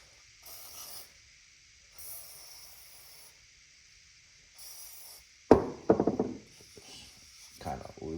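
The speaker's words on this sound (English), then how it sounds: "So I'm going to spray that with some WD and kind of get it situated." WD-40 lubricant is sprayed onto a bike part in short hissing bursts, three brief sprays spaced apart, followed by louder knocking and handling noises of the part being worked.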